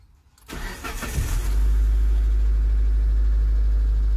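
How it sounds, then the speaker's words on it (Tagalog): A Mitsubishi Lancer, recently troubled by a faulty ignition switch, cranks briefly and then catches, its engine rising into a loud, steady, close-up idle rumble after about a second and a half. "umi-start na po ang ating sakyan"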